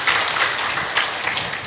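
An audience at a religious discourse claps together, a dense burst of applause that stays even throughout and fades slightly near the end.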